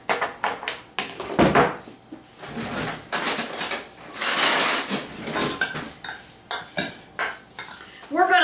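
Strawberries being stirred with sugar in a bowl for strawberry shortcake, heard as a run of close, loud clinks and scrapes of a utensil against the dish, irregular and bursty, with no voices.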